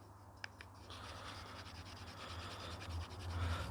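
A sharpening stone rubs along the edge of a hand-carved wooden spoon in soft, faint, continuous strokes that grow slightly louder toward the end, with a couple of light scrapes early on.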